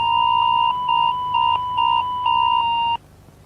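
A loud electronic warning alert for a robot dog attack beeps in five pulses of steady pure tone, each about half a second long with short gaps, then stops abruptly.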